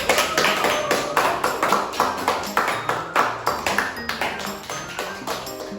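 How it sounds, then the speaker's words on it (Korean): A small group of teenagers claps to welcome new members in a casual discussion session, a brisk, close burst of individual hand claps with distinct taps and a slight ringing tone behind them. "박수!"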